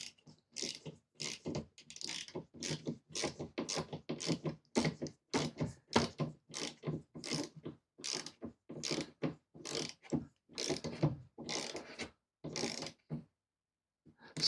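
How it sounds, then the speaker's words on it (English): Torque wrench ratchets steadily while tightening bolts on a rear cross rail bracket of a Hummer EV, producing a long run of evenly spaced, sharp, close clicking strokes that stop near the end. "So I'm going to go ahead and start turning these and tightening them."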